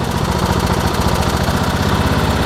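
A loud MTD lawn tractor engine runs steadily close by, with a rapid mechanical chug and rattle and a slightly uneven governor, with no speech over it.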